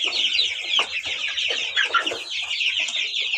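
Australorp and Kuchinsky chickens clucking steadily and close by, a dense overlapping chorus of soft clucks and chirps with no talking.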